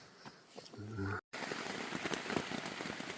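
Rain patters steadily on a tent in the Presidential Range, a dense close spatter of drops after a brief moment of voice and a short dropout.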